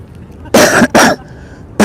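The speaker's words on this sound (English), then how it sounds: "Did I cough hard?" Two hard, close coughs in quick succession from an adult, followed by a brief pause and the start of a third, loud bursts against a quiet room.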